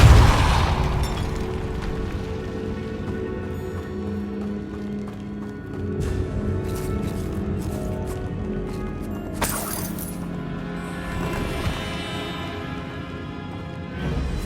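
Repulso spell blasts in Hogwarts Legacy set off a dense, echoing burst of booms and clinking debris, with sharper pops flaring midway through a loud, sustained magical rumble.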